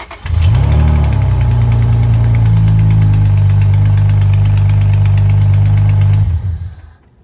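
A 1998–2002 Honda Accord V6 engine idling steadily at close range, with a faint repetitive ticking from a leaking header gasket riding over the low rumble before it cuts off near the end.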